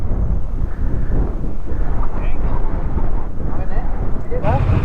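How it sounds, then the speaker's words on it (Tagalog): Strong wind buffeting the microphone in a loud, continuous low roar, with faint crow calls breaking through near the end, at Bataan National Park. "Lakas talaga ng hangin."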